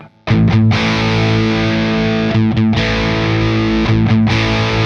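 A distorted electric guitar, an ESP LTD EC-01FT Deluxe with a fat, P90-like single-coil pickup through a Marshall JCM800 2203 amp, plays sustained, thick chords that ring out loud and continuous, with brief pauses for re-strikes.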